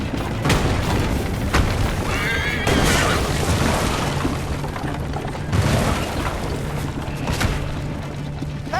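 A horse in an Assassin's Creed video game whinnies amid a loud, busy game soundscape of booms, crashes and bursts, with the sounds overlapping and sustained across several seconds.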